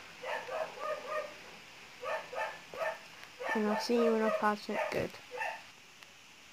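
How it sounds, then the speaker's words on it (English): A dog barks indoors in short bursts of several yips and barks, fairly close, mixed with a person talking over them. "That's just my dog barking again."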